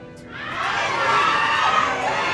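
Fans at a Barbie premiere night break into a loud, sustained crowd roar of shouting and cheering that swells within half a second and holds for about two seconds.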